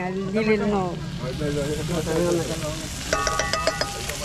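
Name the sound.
beef saltado (saltadito de lomo) frying in a pan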